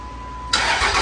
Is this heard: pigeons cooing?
no